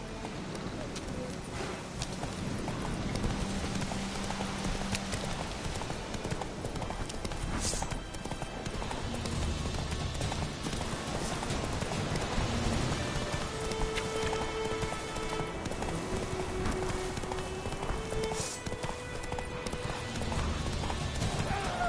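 Horse hooves clip-clop steadily in The Witcher 3 on PS4, a continuous rhythmic trot mixed with rain and a brief whinny, all under a loud, dense game soundscape.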